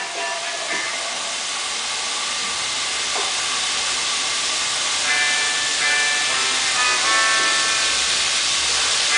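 Garlic hits hot fat in a pan where onions are already cooking for a chicken dish, and a loud, continuous close-up sizzle and hiss holds steady throughout with faint crackles. Nobody speaks.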